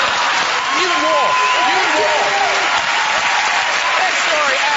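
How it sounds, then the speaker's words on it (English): Studio audience and choir applaud on a TV chat show, a loud, steady wash of clapping with voices and laughter mixed in throughout. "The choir are applauding."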